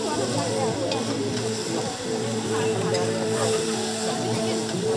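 Bhutuwa meat sizzles and is stirred in a pan at an outdoor picnic in a Chitwan community forest, a steady frying hiss with scraping stirs under continuous background voices and hum.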